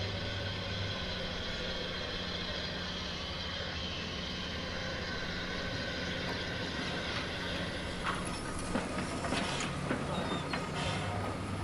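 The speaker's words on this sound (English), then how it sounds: "On shunting duty is 2636, previously named Fenchurch, and one of the Terrier class." Terrier class shunting locomotive number 2636, formerly named Fenchurch, working at a port in 1946: a steady, loud, rumbling mechanical roar with a low hum that runs throughout, with some rattling clanks near the end.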